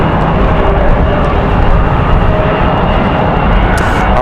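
An airplane arriving at Raleigh-Durham airport on a windy day, a loud continuous engine roar overhead that stays steady throughout.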